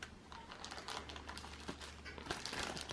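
Plastic bags crinkling and rustling in quick, irregular bursts during a board game unboxing of Catacombs, Dune Imperium and Bitoku, close and steady over a low hum, with no voices.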